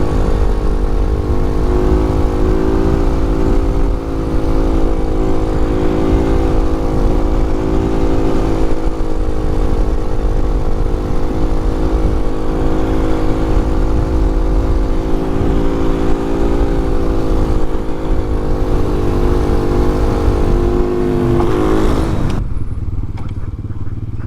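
A Vader 125 motorcycle, a Grom-style small bike, cruises steadily in third gear with a constant, buzzy engine drone and wind rush, cutting off abruptly near the end.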